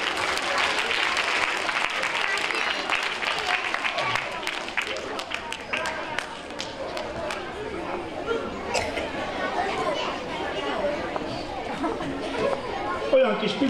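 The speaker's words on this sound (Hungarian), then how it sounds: "Nagy tapsot neki!" An audience applauds a child at a town award ceremony for a children's drawing contest, the clapping mixed with crowd chatter and a few scattered voices throughout.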